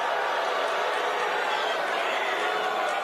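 A crowd at a Libertarian convention keeps up a steady murmur of chatter and low, doubtful reaction, a diffuse wash of many voices in a large hall with no single sound standing out.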